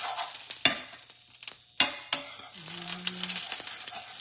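Carnivore pasta crêpe batter fries in fat in a pan, a soft close sizzle broken by sharp clinks and scrapes of utensils against the pan.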